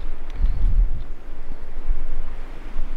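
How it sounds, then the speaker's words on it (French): Strong wind sweeps across a pine-covered island campsite, a steady low roar and rumble battering the microphone throughout with no voices. "On a beaucoup de vent sur cette île, c'est agréable d'être ici."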